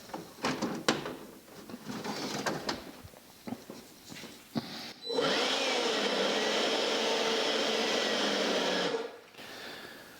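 Compressed air blasts shop air filters clean: first several sharp knocks and handling clatter, then a loud, steady hissing roar for about four seconds before cutting off abruptly.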